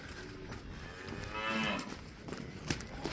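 A single close, loud moo from a shorthorn cow or heifer at a Scottish livestock auction, swelling and fading over about a second amid a noisy, bustling background.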